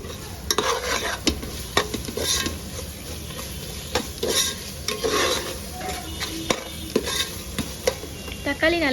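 Tomatoes with salt cooking in a hot pan, loud spoon scrapes and clacks against the metal repeating every second or so over a continuous close sizzle, no voices.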